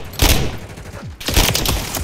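Rapid bursts of gunfire from Call of Duty: Modern Warfare III fill a hectic small-map Stash House match, loud and close, with two clusters of shots separated by a short lull.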